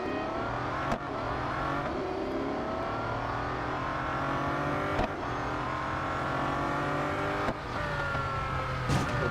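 Race car engine in the Real Racing 3 mobile game on the Laguna Seca track, a sustained high revving whine with rising gear sweeps and brief shift cuts, loud and continuous with no talk.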